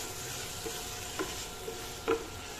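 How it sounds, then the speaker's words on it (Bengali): Spices being sautéed and stirred in a pan for an eggplant, potato and prawn curry, giving a steady low sizzle with a few soft scrapes of the spoon, close and moderately loud, with no talking. "তো এই দেখো আমি এখন কষিয়ে নিচ্ছি এটা।"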